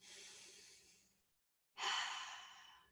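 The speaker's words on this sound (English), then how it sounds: "Rest your arms down, take a nice deep breath in." Two long, airy deep breaths during a guided relaxation session, close and fairly soft, separated by a short silent pause, with no talking.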